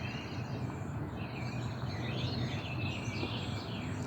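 Small birds in a yard tree chirp and twitter faintly, with scattered thin calls over a constant low background rumble.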